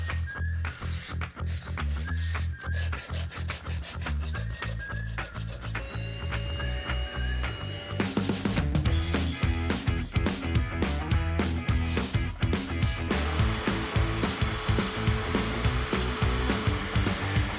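A diamond-blade power tool grinds and scrapes mortar from floor tile, opening with rapid rattling strokes, then settling into a sustained whine layered with gritty scraping pulses, close and steady.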